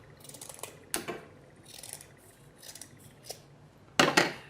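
Scissors snip through faux fur on a prairie dog puppet's bottom edge, a few quiet isolated cuts followed by two louder, sharper snips close up near the end.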